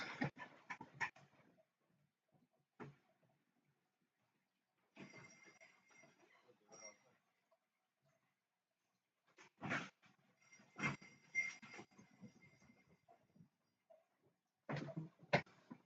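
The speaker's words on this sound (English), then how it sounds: "I gotta let my dog in." A dog pants in several short, breathy bursts separated by quiet gaps, fairly faint and close by, with no voices over it.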